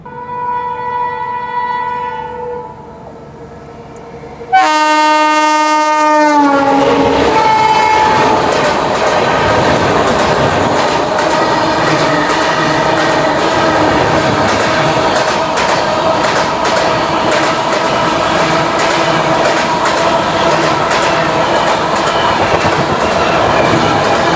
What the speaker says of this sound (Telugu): 22850 షాలిమార్ వీక్లీ ఎక్స్ప్రెస్ వచ్చేసి మనల్ని ఇక్కడ నూజివీడులో ఓవర్టేక్ చేయబోతుంది